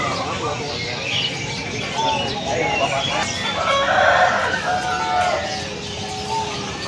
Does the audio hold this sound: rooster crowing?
yes